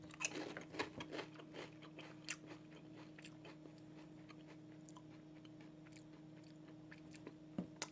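Someone crunches and chews Lay's New England Lobster Roll potato chips close to the mic, with a few crisp bites at the start and quieter chewing that continues under a low background hum.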